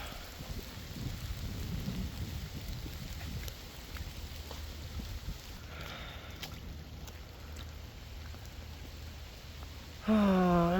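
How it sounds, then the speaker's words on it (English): Rain falls steadily outside while driving, a soft continuous hiss over low rumble, ending with a short burst of a louder tonal sound. "Oh, I'm really done with all that rain."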